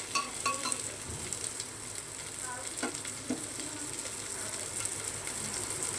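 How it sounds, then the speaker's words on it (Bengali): Chopped onions sizzle and fry in a pan while a spoon stirs them, with scraping and clinking against the metal over a constant hiss of hot oil, close up and with no voices. "পেঁয়াজটা দিয়ে একটু নাড়াচাড়া করব। একটু নাড়াচাড়া করে নিলাম পেঁয়াজটা দিয়ে।"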